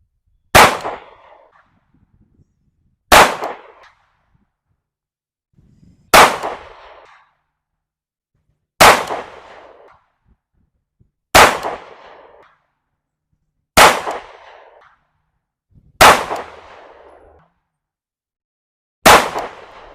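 Eight sharp gunshots from a PSA Dagger 9mm pistol firing AAC 124 grain ammunition, spaced roughly every two to three seconds, each loud crack followed by a short ringing decay, with no talking.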